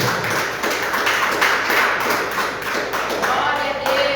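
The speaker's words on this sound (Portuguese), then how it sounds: "Louve a Deus com as palmas." A church congregation claps along during a PortuGuese worship service, steady dense rhythmic hand clapping filling the room, with voices and music mixed in beneath it throughout.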